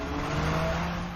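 Tesla Model 3 Performance accelerating hard in a race from about 60 km/h, a steady loud whine and rushing road and wind noise, close and continuous without speech.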